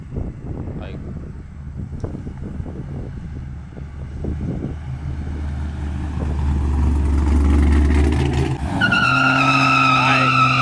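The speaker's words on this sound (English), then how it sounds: "here comes back the Camaro. Man, let's see the downshifts." A Chevrolet Camaro street racing in Mexico roars loudly past, its engine note rising and swelling with tire noise before a sharp shift into a steady high-pitched drone, heard up close with crowd commotion around it.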